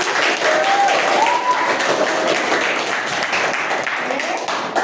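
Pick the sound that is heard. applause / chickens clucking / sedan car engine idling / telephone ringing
applause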